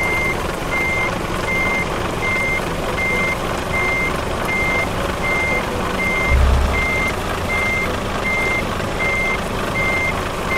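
Truck reversing beeps in the Euro Truck Simulator 2 game, a steady series of evenly spaced electronic beeps over a continuous engine rumble with one brief low thump midway.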